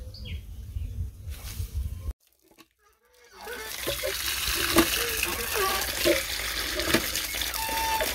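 Running water splashes over freshly cut fish as they are washed, a steady gushing stream after a brief quiet gap, with a voice talking over it.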